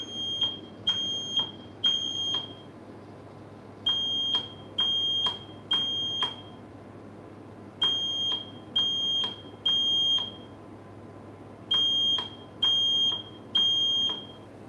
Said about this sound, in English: This will actually make my Alexa think that a smoke alarm is going off if I do it certain pattern.